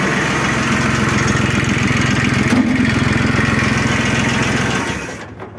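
A Yanmar YM1610D compact diesel tractor runs steadily up close with a loud, even chugging hum, then cuts off near the end, leaving near silence.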